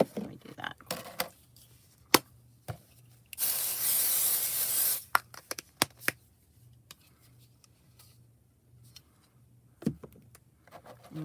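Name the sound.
spray bottle spraying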